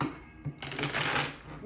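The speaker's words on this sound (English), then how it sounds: "Dark Mansion Tarot are made of a little different material, so they shuffle a little bit differently" A Dark Mansion Tarot deck is shuffled by hand, its cards riffling in a quick, close burst of papery flutter and slaps, with nobody talking.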